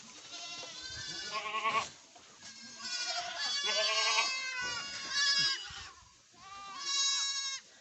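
Goats bleat repeatedly at a village goat farm in Nepal, several close, loud overlapping calls rising and falling in quick succession with short pauses between bursts.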